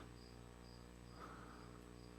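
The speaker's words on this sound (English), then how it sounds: "I just noticed the cricket." A cricket chirps faintly in a quiet room, a soft repeated pulsing trill over a steady electrical hum, with no talking.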